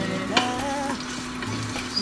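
Ginger sautés in a little oil in a hot frying pan, a steady close sizzle with a couple of brief utensil clicks over a constant low hum.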